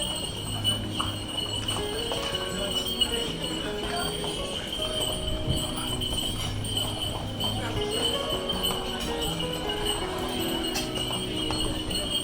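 Donkey hooves clip-clop steadily on stone paths of the old port on Santorini, Greece, where donkeys carry tourists, heard amid continuous crowd and outdoor ambience.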